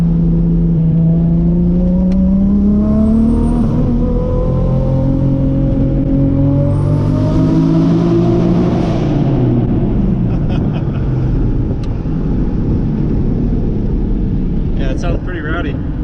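A Datsun 260Z with a swapped turbocharged RB25 engine of about 520 horsepower revs loudly and close, its pitch rising and falling in sweeping tones with turbo whine overhead.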